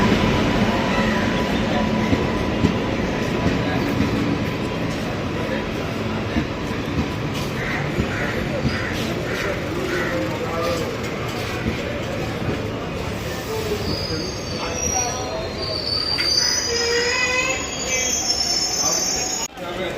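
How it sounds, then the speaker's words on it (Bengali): Sealdah local passenger train at a station platform, loud sustained metallic wheel squeal and rolling rumble of railcars, with faint voices in the background. "তো এই আমাদের ট্রেন দাঁড়িয়ে আছে"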